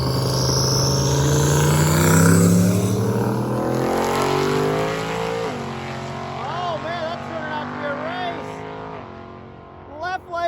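Hot rod cars racing on a street, with engines revving hard and roaring past, the pitch rising and sweeping through gear changes. Loud, close and continuous.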